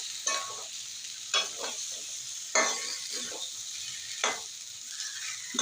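Spice paste stirred and fried in oil in a pan, a steady soft sizzle broken by four or five louder scraping stir strokes at irregular intervals, close and fairly quiet.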